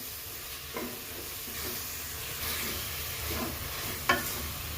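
A green turmeric vegetable gravy with peas cooks over a low gas flame while being stirred in a pan. A continuous soft sizzle sounds under repeated scraping stirs, with a sharp clink near the end and no voices.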